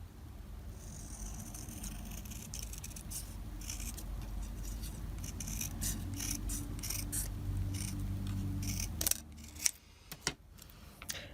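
Scissors snip through paper while trimming a die-cut papercraft piece, a steady close run of soft cutting and rustling that ends with a few sharper isolated snips, with no talking.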